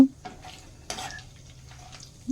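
Ghee and oil with biryani spices, cloves and cinnamon, frying in a pan for Andhra-style chicken biryani, giving a soft, steady sizzle with a brief stirring scrape near the middle and no talk.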